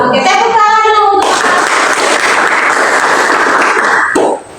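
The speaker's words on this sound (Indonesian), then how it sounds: "Oke, tepuk tangan dulu untuk" A classroom of students claps and applauds together in one sustained burst of about three seconds during a Christian religious education lesson, right after a teacher's brief talk.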